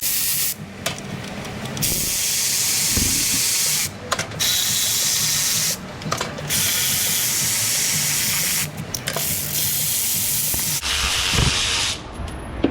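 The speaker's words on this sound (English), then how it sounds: "We've got Torx bit right here. It's a T40. We'll pull all these guys right on out." A T40 Torx bit backs bolts out of a ZF 8/9-speed automatic transmission, giving bursts of high, hissing whir from a power driver separated by short pauses, close and steady with no talking.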